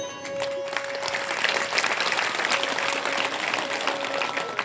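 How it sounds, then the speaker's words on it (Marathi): An audience claps steadily at a devotional Shiv Mahapuran katha gathering led by Shantigiri Maharaj, broadband applause holding fairly loud and continuous throughout with a faint tonal hum underneath and no talking. "तुमच्यासाठी एकदा टाळ्या वाजव बरं"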